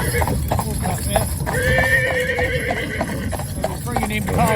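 Fillies and geldings clop along on their hooves while one horse lets out a drawn-out whinny midway, close by, with people talking faintly underneath.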